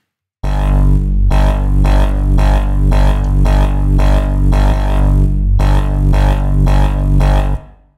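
A heavy, buzzing synth bass plays loud and steady, pulsing in short rhythmic chops with a brief gap before resuming, then cutting off abruptly.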